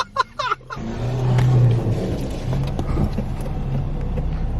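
A car climbing the track at a pit bike motocross event at Ashdown Farm, its engine droning loud and steady after a brief burst of voices at the start.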